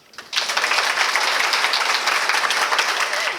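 An audience at an evening honors event breaks into loud, sustained applause, dense clapping that starts suddenly and carries on steadily without speech.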